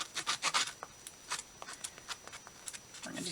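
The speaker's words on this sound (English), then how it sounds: "Let me get around here though with the scissors quick, just lightly." Scissors snip through paper in quick, quiet bursts, a run of short rasping cuts close up with small pauses between them.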